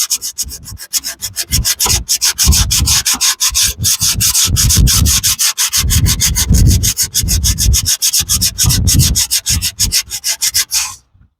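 Vigorous hand sanding of rust off metal in quick repeated strokes, a loud gritty scraping rhythm close by that runs continuously, then stops abruptly at the end.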